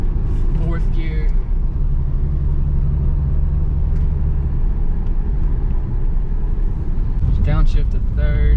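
Loud, steady engine drone and road rumble from a Mitsubishi 3000GT pulling in fourth gear, a dense continuous roar from inside the car with faint higher squeaks near the start and end.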